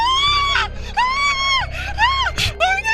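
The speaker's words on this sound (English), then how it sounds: "One of them was very frightened and screamed at the top of her voice" A frightened woman screams at the top of her voice, with several loud, high, wavering cries and wails in close succession and gasps between them, heard up close.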